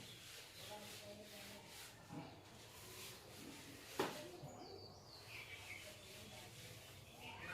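A board being rubbed clean with an eraser during a maths lesson, a steady soft scrubbing that runs on with a faint rhythmic texture and one small knock partway through.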